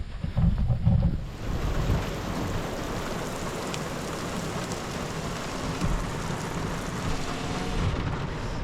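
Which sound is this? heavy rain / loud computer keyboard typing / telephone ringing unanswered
heavy rain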